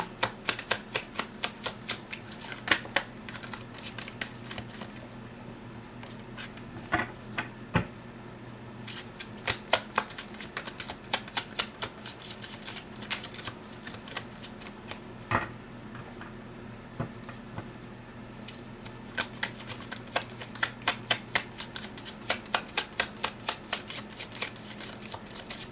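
Tarot cards shuffled by hand in steady, repeated bursts of papery riffling and snapping, close and fairly loud, continuing for a long stretch with a low steady hum beneath and no talking.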